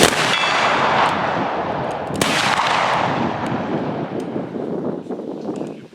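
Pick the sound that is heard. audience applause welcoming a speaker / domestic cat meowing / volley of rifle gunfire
volley of rifle gunfire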